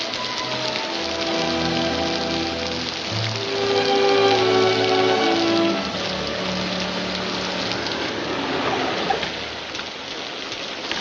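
Rain falls steadily in a continuous patter and hiss beneath a dramatic orchestral score, with no talking.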